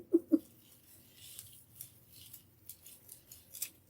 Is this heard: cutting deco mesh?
yes